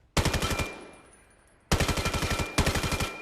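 Rapid automatic gunfire from a gun in the VR shooter Vail VR, three loud close bursts of evenly spaced shots separated by short pauses, with no voices.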